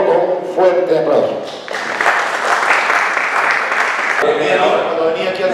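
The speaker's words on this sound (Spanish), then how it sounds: "recibamos por favor con un fuerte aplauso" Strong applause from a conference audience welcoming a presenter, dense steady clapping filling the room for several seconds, with a voice speaking briefly at the start and again at the end.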